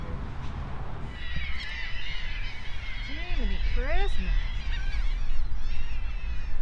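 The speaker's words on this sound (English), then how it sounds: "That's one of them big pelican birds." Large pelican-like birds at a beach give honking, goose-like calls with rising and falling squawks over surf-like noise, loud and near, while a person speaks briefly over them.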